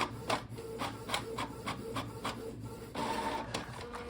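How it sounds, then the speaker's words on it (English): A Canon PIXMA TR4720 inkjet printer runs a test page, giving a steady series of rhythmic mechanical clicks and feeding whirs close by, with a louder rasping burst of paper movement near the end. "Just by clicking it once, it will send the test page to the printer."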